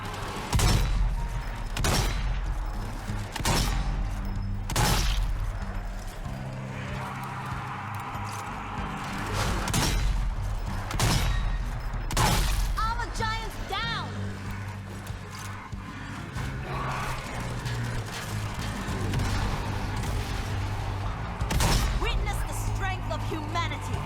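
Gunfire in the zombie shooter Zombie Army 4, with sharp single rifle shots cracking every couple of seconds over a droning game soundtrack, with scattered zombie groans and impact sounds between them.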